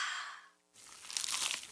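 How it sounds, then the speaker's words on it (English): A crunchy bite into a cheesy pizza slice: a sudden loud, close crackling crunch that follows a brief lull and sustains as bright, crisp chewing noise. "Is that the sound of an ooey gooey, cheesy, crunchy slice of P-I-Z-Z-A?"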